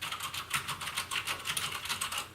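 Typing on a SteelSeries M500 mechanical keyboard produces sharp, loud, clacky keystrokes in a quick steady run, close up, with no voice.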